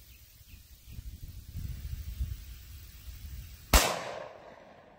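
Dry ice being shot, a sudden sharp pop or blast near the end, preceded by low rumbling handling noise outdoors.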